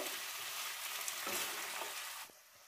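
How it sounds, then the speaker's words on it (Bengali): Mixed vegetables sizzle steadily in a hot frying pan while a spoon stirs and scrapes through them. The crackle drops away sharply near the end. "সবজিগুলো বেশ ভালো করে নাড়াচাড়া করে নিচ্ছি, যাতে সব মিশে যায় একসাথে।"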